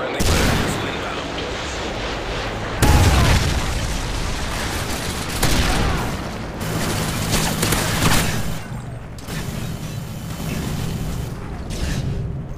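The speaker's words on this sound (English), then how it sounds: "Friendly Predator missile inbound." Predator missile explosions in Call of Duty MW3, loud booming blasts with rumbling gunfire, several distinct impacts in close succession, with a game voice heard over the action.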